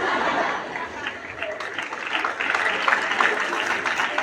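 Audience clapping at a motivational talk, a steady dense wash of many hands through the whole stretch with crowd murmur mixed in, fairly even and moderately loud.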